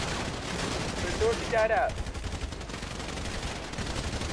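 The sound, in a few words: gunfire in a battle royale video game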